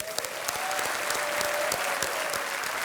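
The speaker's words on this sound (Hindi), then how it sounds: "एक बार फिर जोरदार तालियां।" A studio audience on the Kaun Banega Crorepati game show breaks into continuous, dense applause, a steady clatter of many hands with a few louder claps standing out.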